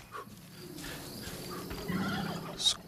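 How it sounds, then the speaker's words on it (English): Turkeys gobbling in the video game Far Cry 5: a faint burst of gobbles partway through over a quiet ambient bed with soft insect chirping, ending in a sharper brief call. "Those crazy turkeys."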